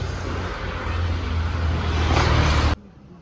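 A car driving by outside a home, a loud rushing road roar that builds and swells before cutting off abruptly near the end.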